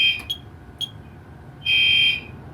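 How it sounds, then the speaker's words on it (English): A newly installed fire alarm system sounds in a test, sending two brief electronic chirps, a third short burst, then a sustained loud tone lasting about half a second, all over a low steady background hum. "The alarms are still going off, but the panel says everything is normal."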